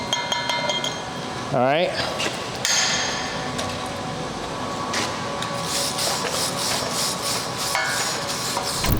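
Slag chipping and peeling off a fresh overhead stick weld in the 4G position, with clinking, tapping metallic hits scattered through the clip under a brief spoken phrase.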